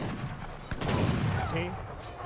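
Culverins firing at cannons during a battle in the video game Age of Empires II: a sharp gunfire crack followed by a rolling volley of booms and battle noise, heard under a voice commentating.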